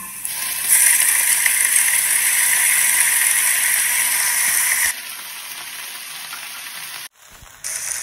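Jute leaves dropped into a pan of fried garlic and onion set off a steady, fairly loud sizzle that holds, then drops to a softer hiss and briefly cuts out near the end, with no talking.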